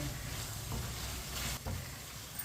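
Chicken cooking in a pan over a medium flame for a tinda chicken curry: a constant soft sizzle and crackle, fairly quiet and unbroken, with a couple of faint stirring scrapes and no voices.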